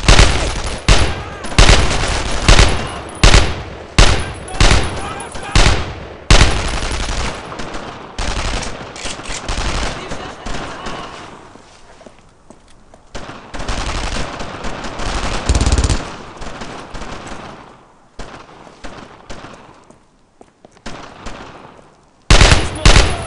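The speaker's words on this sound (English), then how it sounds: "Suppressing fire!" Machine gun suppressing fire in Brothers In Arms: Road To Hill 30 rattles in loud, sustained automatic bursts during a push into Carentan, with shorter volleys and pauses between heavy stretches of shooting.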